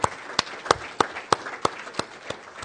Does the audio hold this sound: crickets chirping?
no